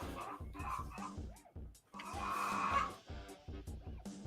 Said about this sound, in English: The chickens are grumpy.